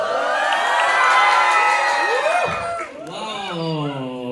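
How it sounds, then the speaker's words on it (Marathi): Audience at a Friendship Day special fun event cheers loudly, with crowd noise, whoops and children's shouts that swell and keep going without pause. "सो त्यांच्यासाठी एकदा जोरदार टाळ्या"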